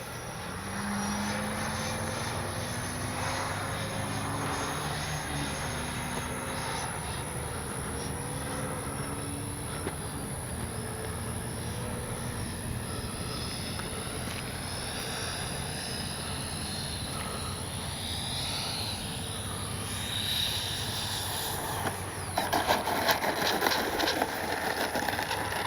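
Arrows 64mm RC MiG-29 electric ducted-fan model jet flying a speed trial, giving a steady, sustained high-pitched whine and rushing roar that holds throughout, with a louder swell near the end as it passes closer.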